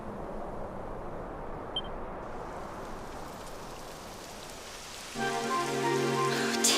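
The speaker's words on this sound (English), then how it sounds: "It would have to go and start raining, wouldn't it?" Continuous video game rain in Dragon Quest XI patters and hisses throughout, then a steadier, brighter layer of sound joins near the end.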